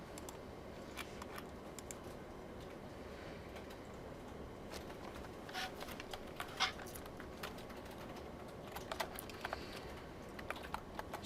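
Steady keyboard typing during a programming lecture, a continuous patter of key clicks with scattered sharper taps, moderately close over a faint background hum and no voice.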